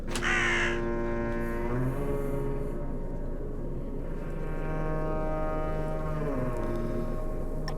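A crow in the video game Drake Hollow gives drawn-out, tonal caws in several long calls, fairly loud and clear over a quiet game background.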